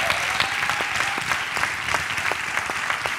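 An audience at a live interview event applauds, a dense, steady wash of many hands clapping, fairly loud and continuous throughout.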